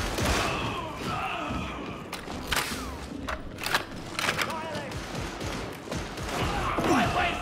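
A gun fires in the video game Warhammer 40K Darktide, a string of sharp, punchy shots with heavy thuds mixed into busy combat noise, with voices talking throughout.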